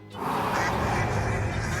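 A loud, sustained honk attack from Shadows Over Loathing, one continuous nasal blast that starts abruptly and holds at full volume with no talk.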